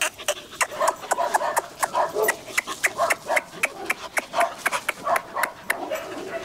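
White fluffy Bac Ha dogs bark and yip in a rapid, uneven string of sharp, close barks mixed with whimpers, fairly loud and nearly continuous over several seconds.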